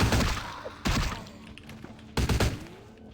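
Three heavy, booming shotgun blasts spaced about a second apart in the video game Vampire the Masquerade Bloodlines, each followed by a short decaying tail and faint game sounds in between.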